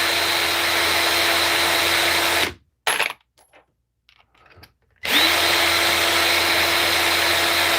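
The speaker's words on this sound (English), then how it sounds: "I recommend getting something like a drill like this" Cordless drill spinning a case trimmer on rifle brass for 6.5 Creedmoor reloading, a steady loud whine that cuts off for a few seconds with brief faint clicks, then resumes just as strongly.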